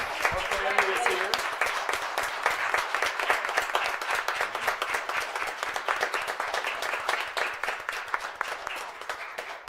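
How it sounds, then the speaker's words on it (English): A crowd at a school board meeting applauds a student being honoured, a long burst of many hands clapping with the claps growing more distinct over time, while a voice speaks over the start. "let's give Zaya a big round of applause"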